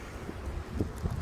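A cold, piercing wind on a raw day of about six degrees among bare trees buffets the microphone outdoors in a low, faint, gusting rumble, with no talk.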